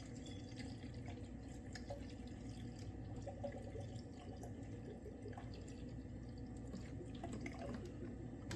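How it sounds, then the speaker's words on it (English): Distilled water is poured into a leaking radiator on a Mercedes GL450/GL550, a faint trickling and dripping over a low background hum, with scattered small splashes and no voices. "I will just go ahead and just add distilled water"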